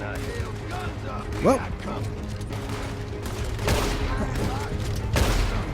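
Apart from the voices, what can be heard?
repeater rifle gunfire attacking stagecoach guards in Red Dead Redemption 2 video game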